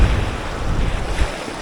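River water rushes knee-deep across the Hawdon River crossing, a broad continuous roar close to the microphone, mixed with gusts of wind buffeting it.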